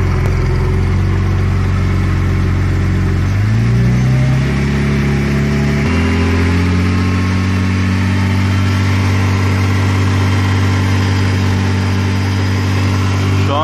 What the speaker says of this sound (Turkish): Şu anda yüksek devirde tutacağız aracı.